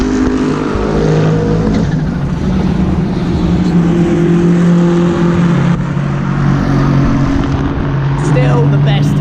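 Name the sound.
GT3 race car passing by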